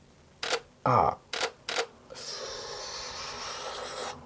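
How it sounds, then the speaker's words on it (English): Canon 5D Mark II DSLR shutter firing four crisp clicks, close and loud, the second a longer double-action release, followed by a steady faint hiss; no talking. "The shutter sounds great."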